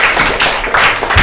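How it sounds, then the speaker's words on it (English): A small group in a talk session claps for themselves, several short bursts of close, loud hand claps. "Let's clap for ourselves."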